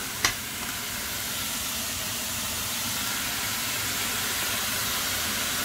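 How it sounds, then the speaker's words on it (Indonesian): Minced meat dropped onto just-fried shallots in a hot pan, a brief thump at the start and then a steady, even sizzle and hiss that carries on alone without talk. "Setelah itu masukkan daging cincangnya ke dalam bawang merah ya yang barusan digoreng itu."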